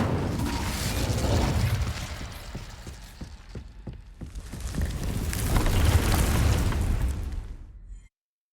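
The Incendio fire spell from Hogwarts Legacy bursts out as a roaring, crackling blast with a mechanical clatter, swelling twice and then cutting to silence.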